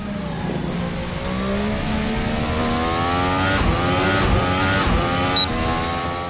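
Simulated F1 car engine in a sim racing mod video game, a high revving whine climbing through gear changes with rising harmonics, loud and close, with brief upshift dips and no talking.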